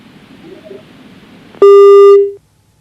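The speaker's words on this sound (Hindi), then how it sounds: "शायद कॉल कट गई।" A single loud, steady electronic tone sounds on a phone line for under a second as a caller's connection drops during a live call-in news broadcast. It cuts in sharply after a quiet background hiss.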